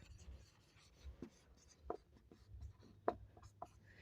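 Pen writing answers on paper, quiet scratching strokes with several sharper taps, close and alone over a low background hum.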